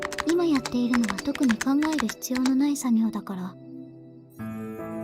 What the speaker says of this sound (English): Shion did not stop typing as she answered